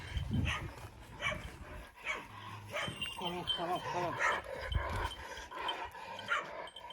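A dog gives a few short barks and yips close by, mixed in with frequent nearby talking.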